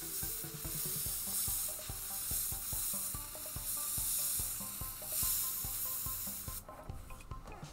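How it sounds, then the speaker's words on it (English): An airbrush loaded with thick paint hisses steadily in a continuous spray over a muffled background, cutting out near the end; no one speaks over it. "With an airbrush, and this paint is really thick, so I'm going to try my best to get it on there as good as I can."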